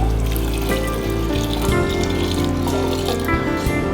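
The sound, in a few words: water poured into pressure cooker for wheat pongal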